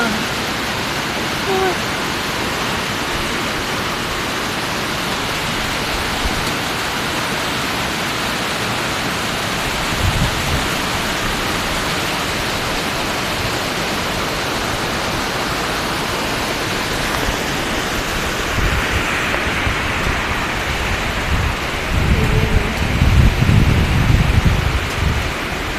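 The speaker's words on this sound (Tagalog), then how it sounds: "Malakas ang ulan dito sa Tarlac." Heavy rain pours steadily in Paniki, Tarlac, a dense, even hiss close by, with a low thunder rumble rolling in near the end.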